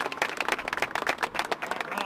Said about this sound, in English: round of applause here for Johnny for organizing this